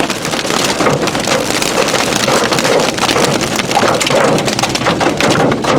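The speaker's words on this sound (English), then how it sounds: "And we're gonna just keep getting hit with hail." Hail pelts a vehicle during a tornado storm near Kit Carson, Colorado, a dense, continuous rattle of many hard impacts close on the body, loud and unbroken throughout, with wind rushing on the microphone.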